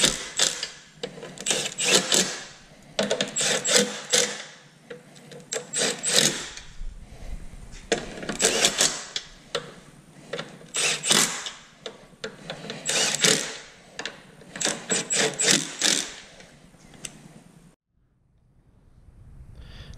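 Quick bursts of ratchet clicking as bolts on a Torklift Ecohitch trailer hitch are snugged up, several rapid runs separated by short pauses, close and crisp, ending in quiet.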